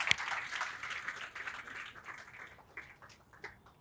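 Audience applause at a primary schools poetry competition in Uganda, a sharp burst of clapping from a crowd that starts strong and then slowly fades and thins out toward the end.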